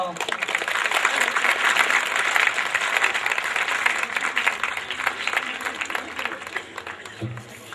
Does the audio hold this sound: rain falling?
no